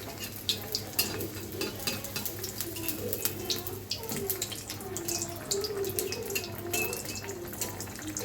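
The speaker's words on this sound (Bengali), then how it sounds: "আস্তে আস্তে ভেজে নিব যাতে টমেটোটাও সুন্দর সিদ্ধ হয়ে যায়।" Tomato chops frying slowly in a pan, a steady soft sizzle with faint scraping stirs and occasional clinks over a low hum, no talking.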